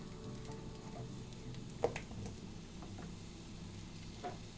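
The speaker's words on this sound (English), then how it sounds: "We just want to go ahead and get that started frying up." Sausage frying in a Dutch oven for a Cajun sausage and rice dish, giving a steady low sizzle throughout with a few small pops and taps from stirring, fairly quiet and without talk.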